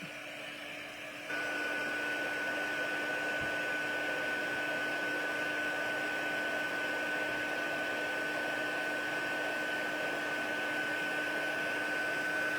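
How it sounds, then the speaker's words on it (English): A hair dryer starts up after a brief lower hum and then runs steadily, a loud continuous whooshing whine with a high tonal note held throughout. "we're going to cut our hair dryer back on"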